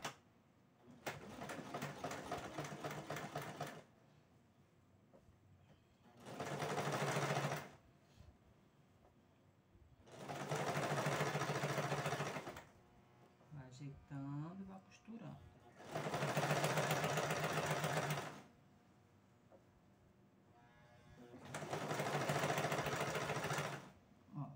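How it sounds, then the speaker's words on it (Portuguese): A sewing machine stitches bias binding onto a placemat cover, running in five loud, steady whirring bursts of a few seconds each, with a voice heard softly in the pauses between runs. "vai só ajeitando e costurando."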